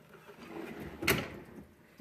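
A drawer in a Craftsman-style tool box slams shut with a sharp, loud clunk, alone against faint room noise.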